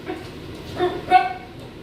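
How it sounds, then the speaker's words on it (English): A dog gives a couple of short, fairly close barks and yips in a home kitchen as someone arrives back from the shops, set against quiet room noise. "The dog's barking at Connor's just come home from the shops."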